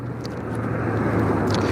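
A moped passes along a street, a droning engine note that stays fairly loud and steady over the outdoor background.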